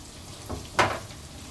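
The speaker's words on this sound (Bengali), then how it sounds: "এদিকে পনিরটাও মোটামুটি একটা দিক ভাজা হয়ে গেছে" Paneer frying in a pan for fried rice: a brief, soft sizzle with a short louder burst, then a low steady crackle.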